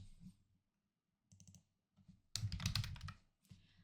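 Close keyboard typing of text in a craft design program, with scattered clicks and then a quick dense run of keystrokes, alone and without speech.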